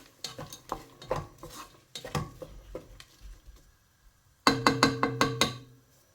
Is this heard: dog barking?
no